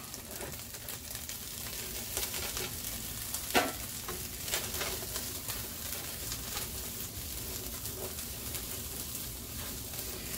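Peppers and garlic frying over medium heat in a pan for Spam fried rice, giving a steady close sizzle with occasional stirring scrapes and a brief louder crackle partway through.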